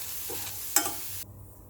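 Steaming vegetables stirred in a pan, a brief soft scrape and clink over a faint sizzle, quiet and close.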